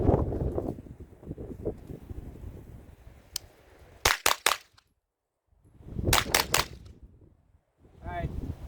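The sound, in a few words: gunshots from S&W M&P FPC carbine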